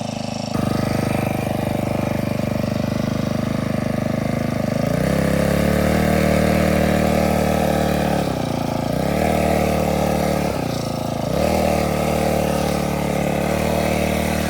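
An FRP MB40 minibike's small engine runs steadily and loud for the whole stretch, its pitch dipping and rising a few times as the throttle eases and opens.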